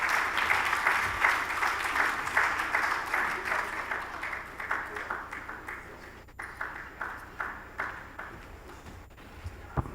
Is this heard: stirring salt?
no